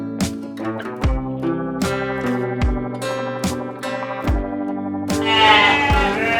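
Gibas sheep bleat repeatedly in a farm pen, several loud, wavering calls following one another closely, with overlapping voices from more than one animal and little else in the background.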